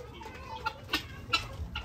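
Chickens in a straw-bedded coop give a few soft, scattered clucks, quiet and close against low background rumble.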